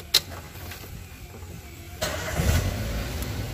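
Car engine cranking and catching into an idle after an electric power steering (EPS) reset, with a sharp click at the start and a stronger engine rumble near the middle, close and moderately loud.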